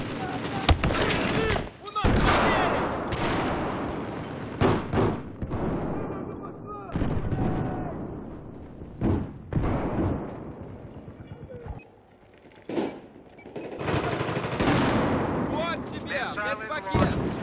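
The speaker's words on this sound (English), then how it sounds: "So many grenades." Grenade blasts and gunfire in a Battlefield 4 conquest match, repeated booming explosions and sharp shots in irregular bursts, loud and close, with players talking over the combat.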